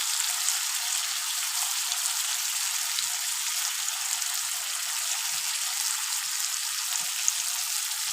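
Curry leaves and chicken sizzle in hot oil, giving a steady, loud, even hiss that runs unbroken throughout with no voices.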